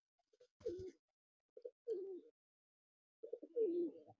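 Baby pigeons coo softly in close, separate bursts of low throaty calls, about three phrases with short pauses between them, alone and without talk.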